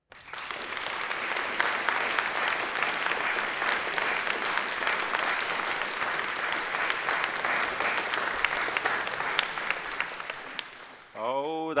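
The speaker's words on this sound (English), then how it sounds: "If you disagree with this, now clap." Sustained audience clapping at a live debate event on AI and art fills the space for about ten seconds, then fades as a voice begins speaking at the end.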